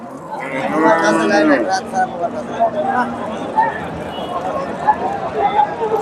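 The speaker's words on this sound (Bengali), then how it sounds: "ফ্রিজিয়ান গাভী" A Friesian cow gives a loud, drawn-out moo nearby, followed by faint outdoor chatter and scattered thumps in the background at a cattle market in Bogura.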